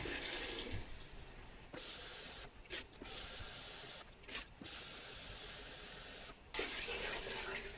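Water pours steadily into a pot of barley bean soup in loud, hissing bursts, pausing briefly a few times before running again close by.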